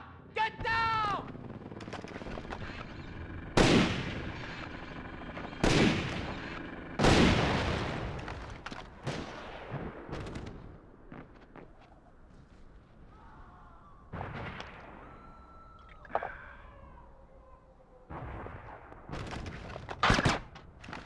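Gunfire and explosive booms from the stealth video game Splinter Cell Chaos Theory arrive in loud, spaced bursts separated by quieter gaps.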